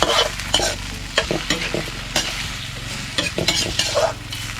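Food stirred in a pan over a fire in a Lahu home kitchen, spoon scraping in repeated rhythmic strokes over a steady sizzle, close and fairly loud.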